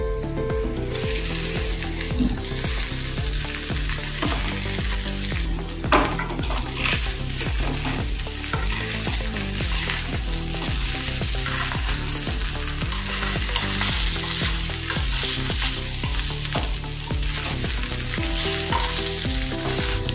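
Mung dal dhokla pieces frying in a spiced pan with red chilli powder and sambar masala, a steady loud sizzle over the whole stretch with repeated scraping stirs and occasional clinks of the spoon, no voices.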